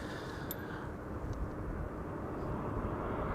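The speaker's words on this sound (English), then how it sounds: "this is KLM flight 1216 arriving from Stockholm. More Embraer 190s coming in" A KLM Embraer 190 jet arrives at Amsterdam Schiphol, a fairly distant, steady engine rumble and wash with a brief high click near the start.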